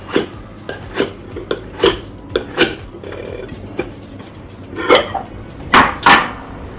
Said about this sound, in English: You turn the plate under, this is porcelain, and then you do this.